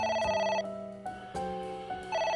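A telephone rings in the video game AI: The Somnium Files, a steady electronic bell tone pulsing in bursts that stop and restart, loud and close, with no talking.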